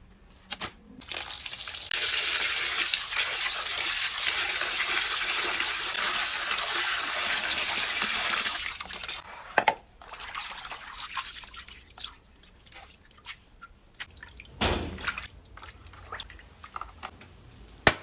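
Running water pours steadily for about eight seconds while kayamis fish are washed in a basin for kinupsan, then stops, leaving faint splashes, drips and light handling sounds.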